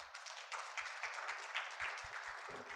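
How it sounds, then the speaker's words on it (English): Audience applause at the 29th annual MLK Mayor's Breakfast, a steady round of clapping from a roomful of people lasting the full few seconds, moderately loud and continuous, with no talk over it. "Another round of applause,"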